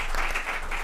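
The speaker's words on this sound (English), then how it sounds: "we can give you a applause" A conference audience claps after a science presentation, a brief burst of dense, continuous applause heard close.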